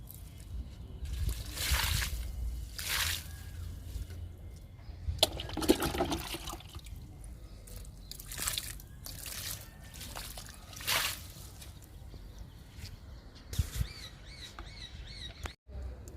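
Liquid plant fertilizer poured from a mug into a large plant tub, with soft splashing and trickling pours in several separate bursts, close and fairly quiet against light background noise.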